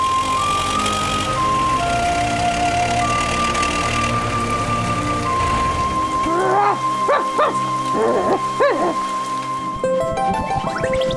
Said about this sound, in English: I can't wait for this rain to stop,